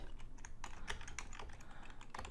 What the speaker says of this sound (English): now we will start typing in the request body